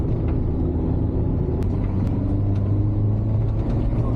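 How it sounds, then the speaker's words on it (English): Camper van labouring up a steep hill road used by articulated lorries, its engine a steady loud low rumble with a slight shift in pitch as it drops a gear, no talk over it. "the van's just changing down a gear there"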